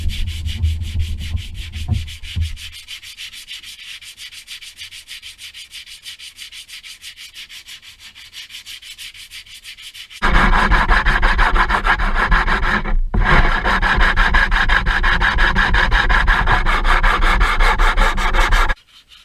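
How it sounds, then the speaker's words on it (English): Hardened body filler on a vintage racecar is sanded with a steady, harsh rubbing rasp, quieter at first and then loud and continuous, with a brief pause near the end; no talk. "I'll let it harden, and then we'll start sanding it and block it down, make it smooth."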